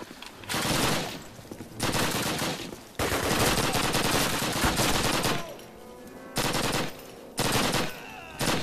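Submachine gun fire in a Call of Duty game, loud sustained bursts of rapid automatic shots broken by short pauses, each burst lasting one to two seconds.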